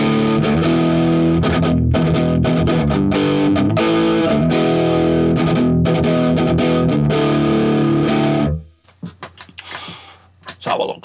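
Heavily distorted electric guitar run through a Zoom G6 multi-effects pedal plays dense sustained chords for about eight seconds before cutting off abruptly into quieter clicks and handling noise.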